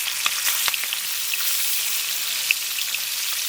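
Fresh pond fish coated in turmeric and salt fry in hot oil, giving a soft continuous sizzle with scattered tiny pops and crackles, close and alone with no voices.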